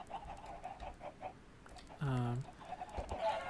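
Chickens on a chicken farm in the Minecraft FTB modpack give a short, loud clucking call that rises above a quieter bed of game sounds and scattered clicks.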